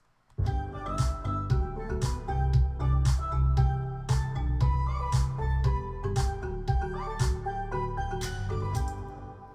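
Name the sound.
electronic music drop of the producer's track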